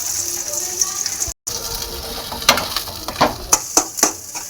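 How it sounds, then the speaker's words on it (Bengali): Potato pieces are added to hot oil in a wok, making a steady hiss with scattered louder crackling bursts toward the end, close and moderately loud. "তেল গরম হয়ে গেছে, এবার তেলের মধ্যে আমি এই আলুটা দিয়ে দিলাম"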